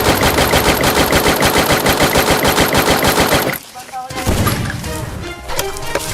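Rapid automatic gunfire in the Free Fire battle game rattles loud and close in a continuous burst, then cuts off into scattered shots and game effects, with a voice talking over the end.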